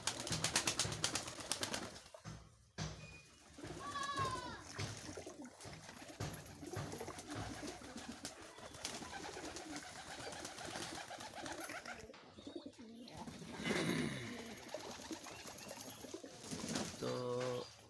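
Pigeons coo in a steady rhythm while bathing in water on a winter day, with trickling and splashing close by and brief bird calls rising above the soft background.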